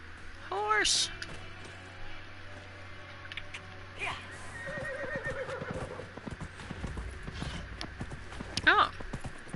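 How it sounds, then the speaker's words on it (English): A video game horse in Dragon Age: Inquisition whinnies near the start, followed by hooves clip-clopping, with a person talking over parts of it and another neigh near the end. "Horse."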